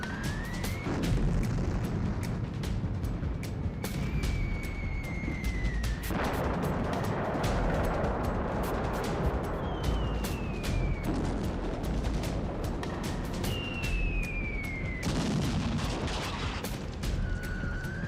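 Sustained loud rumbling and crackling of Iranian missile strikes exploding in Tel Aviv, Israel, with rising whistling tones overhead and no voices.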